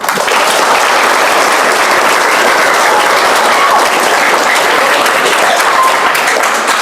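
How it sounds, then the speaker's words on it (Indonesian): A large crowd of Islamic boarding school students claps steadily and loudly throughout, a dense, continuous wash of applause with no voices standing out. "Boleh tepuk tangan."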